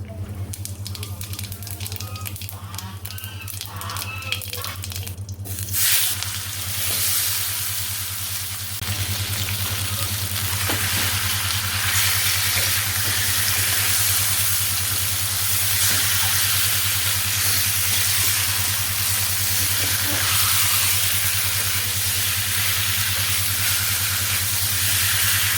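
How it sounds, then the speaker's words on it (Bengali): Oil hisses steadily in a wok throughout, a broad bright sizzle that swells after the first few seconds, with a constant low hum underneath and no talking. "মাখানো হয়ে গেছে এখন কড়াইতে তেল দিয়ে নিই"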